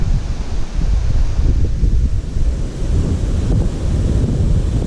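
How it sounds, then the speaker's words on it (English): Wind gusting over a mountain trail on Gregory Bald, a steady, loud low rumble of buffeting against the microphone with a rustling hiss, swelling and easing slightly with no voices. "And the wind's picked up, which actually feels great right now."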